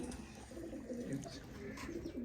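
A pigeon of the old Isa Khel station breed from Mianwali, a line kept for fifty to sixty years, coos in soft, low repeated calls close by over a quiet background.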